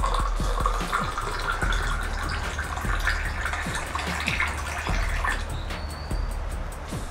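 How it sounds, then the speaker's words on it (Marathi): Cold water poured into mango puree for aam panna makes a steady close pouring and splashing stream that runs for several seconds without a break, with no speech. "त्यामध्ये थंड पाणी घालत आहे।"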